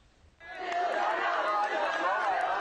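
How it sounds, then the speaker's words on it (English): A crowd of protesters in Burma rises suddenly into a dense wall of many voices chattering and calling out, loud and sustained for a couple of seconds. "the crowds are gathering once again, but in much smaller numbers"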